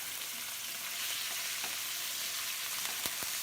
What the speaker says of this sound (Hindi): 5 से 4 मिनट इसी तरह हम फ्राई करेंगे ताकि चिकन हमारा अच्छे से गल जाए